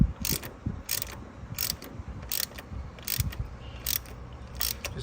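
A ratchet snugs down the coolant temperature sensor on a 2016 Chevy Suburban 5.3, giving a steady run of crisp close clicking bursts, roughly eight evenly spaced strokes with a low mechanical rumble underneath.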